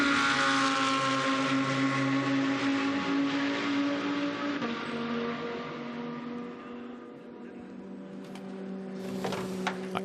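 A KTM GT2 race car moves down the pit lane at Paul Ricard during a GT2 European Series race, a steady droning engine note that slowly fades and shifts pitch, moderately loud with some sharp noise bursts near the end.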